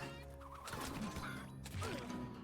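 Chickens clucking and squawking in the video game Warcraft Rumble, sent alongside a Plague Farmer in the Deadmines dungeon, with short bird calls over busy game effects, thuds and background music.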